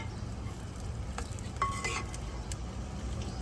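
Marinated meat with ginger garlic paste and salt is stirred at an outdoor cooking spot in a park, a soft wet scraping and sizzle with a few light metallic clinks against low background noise, no voices.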